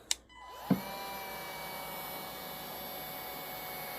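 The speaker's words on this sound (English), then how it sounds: "is actually a perfect application for this heat gun." A steady, airy blowing whir runs continuously after a couple of sharp clicks at the start, like a heat gun switched on and held running, softening a plastic freezer door shelf.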